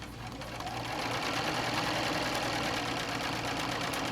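A sewing machine stitches a quilt block during ruler-work quilting, its rapid mechanical whir starting softly and then holding steady and close for the rest of the stretch.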